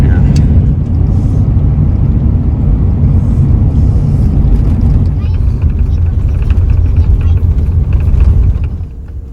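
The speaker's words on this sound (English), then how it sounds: "So we're going to have a little bit of a drive now." A car driving on a road through prairie grassland in Texas, a loud, steady low rumble of engine and tyres that continues under a voice and eases slightly near the end.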